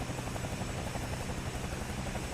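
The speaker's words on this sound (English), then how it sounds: "the sound on this thing is really good. I mean, it's a really fun helicopter" A Cowan Sim CS222B Airwolf helicopter in a flight simulator, its engine and rotor producing a dense, steady whine with a rapid rhythmic blade thump, constant and close with no talk.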